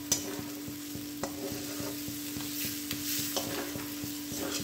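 Boiled chickpeas (chana) sauté in a pan, giving a moderate steady sizzle punctuated by regular rhythmic stirring knocks and scrapes, with no talking.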